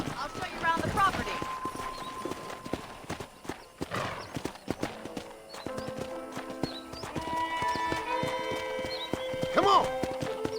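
Steady clip-clop of horse hooves at a walking pace in the video game Red Dead Redemption, with a horse whinnying near the end, under background chatter and music.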